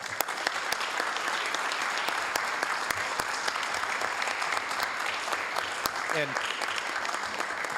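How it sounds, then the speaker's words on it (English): Steady, sustained applause from an audience at a city council meeting fills the room, dense and even throughout with occasional sharper individual claps standing out near the front. "let's give our partners a great big round of applause"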